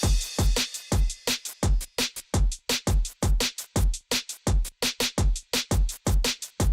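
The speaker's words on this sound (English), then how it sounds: "So you hear the drums and the hook, and they sound like this." A beat with deliberately unusual drums, heard as punchy, evenly spaced kick and snare hits that pound out a steady, loud rhythm with sharp decays between them.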